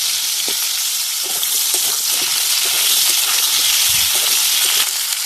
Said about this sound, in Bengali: আমি ঝিঙেগুলো এর সাথে দিয়ে ভেজে নেব